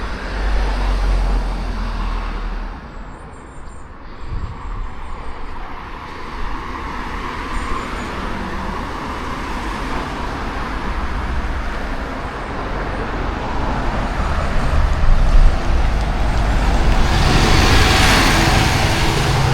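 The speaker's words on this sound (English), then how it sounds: "that's a number 52 to Hillsborough" A number 52 bus bound for Hillsborough passes through busy street traffic in the Crookes area of Sheffield, a steady roadway rumble that swells louder toward the end as the heavy vehicle draws near.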